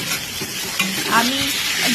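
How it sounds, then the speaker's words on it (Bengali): Potatoes and pointed gourd frying in oil in a pan, a loud close sizzle with scraping and clattering as a spatula stirs the pieces. "আমার আলু ভাজা হয়ে গেল, পটলটাও ছেড়ে দিলাম"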